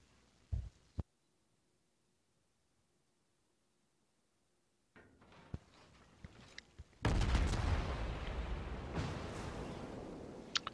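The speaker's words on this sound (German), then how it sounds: "Also, jetzt fleißig schießen und die Zau vernichten." Naval gunfire from the Tier X Japanese cruiser Zao in a warship game: a few sharp isolated shots, a quiet stretch, then scattered reports building into a loud, sustained roaring barrage near the end.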